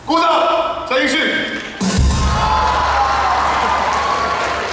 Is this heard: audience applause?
yes